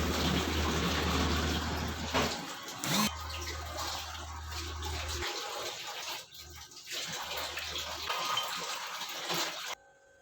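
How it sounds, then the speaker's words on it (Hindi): Water pours steadily into a pot of Punjabi-style fish curry broth, a continuous splashing gush with a few brief pauses, close and moderately loud, with no talk. "जितना हमें शोरबा चाहिए उतना पानी डाल देंगे"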